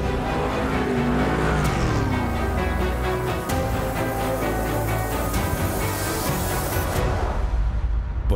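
A drift car's engine revs hard and continuously during a DMEC top-16 drifting battle in torrential rain, the pitch rising and falling through gear changes with loud, sustained racing noise and possible tire noise.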